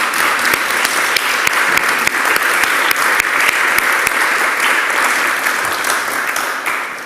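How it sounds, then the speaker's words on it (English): Sustained applause from an audience at an evening celebration event, a dense, steady wash of many hands clapping at even loudness for the whole stretch, with no voices over it. "can we first please have a huge thank you and a round of applause for everyone who's"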